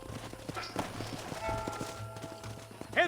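Horse hooves clop and shuffle briefly in the Western video game Red Dead Redemption, soft and close under low ambient game sound, with a short sharp sound near the end.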